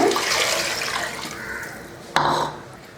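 Water pours steadily into a cooking pot holding rice and moong dal, splashing and rushing, then a brief clunk followed by a shorter pour tapering off.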